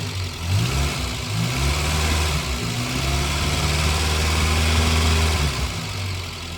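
Morris Minor car engine running nearby, a steady low rumble with gentle rises in revs as the accelerator is pressed, no voices over it.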